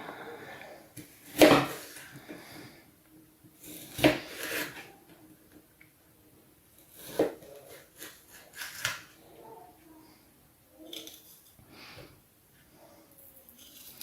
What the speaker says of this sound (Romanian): Am terminat de tăiat roșiile, iar acum vom tăia ceapa.